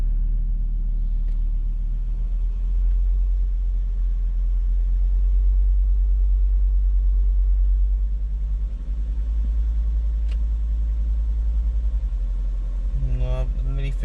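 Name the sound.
Volvo 2.4 non-turbo petrol engine revving slowly with misfire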